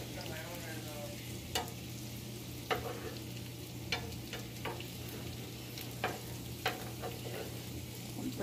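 Garlic and green beans sizzle in a pan over a steady background hum, with a few sharp clacks and scrapes as they are stirred at irregular intervals.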